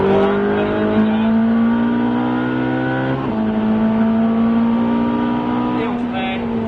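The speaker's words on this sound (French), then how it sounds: "Et on élargit, on accélère." A race car at the Albi circuit accelerates loudly on track, its engine note climbing steadily through the gears, heard from close by with a voice speaking over it.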